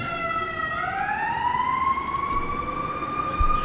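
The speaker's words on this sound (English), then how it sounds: "the siren sounds." A siren sound effect wails alone, its tone sliding upward and then holding a long steady rising pitch over a low rumbling bed, loud and continuous throughout.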